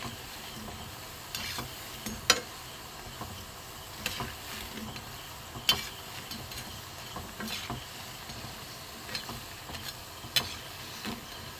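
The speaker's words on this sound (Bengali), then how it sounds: "একটু ভালো করে ভাজবো।" Mung dal batter frying in hot oil gives a steady soft sizzle with faint bubbling, broken by a few sharp clicks and pops spaced out across the stretch, no voices.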